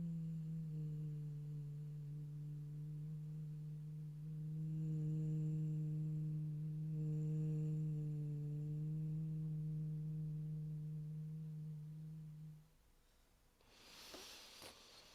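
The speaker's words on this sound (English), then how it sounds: "I do a couple humming sound into it" A low, steady human hum directed into the chest for relaxation holds a single sustained pitch for about twelve seconds, then stops, followed by a brief breathy exhale.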